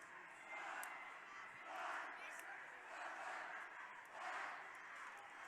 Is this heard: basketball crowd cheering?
yes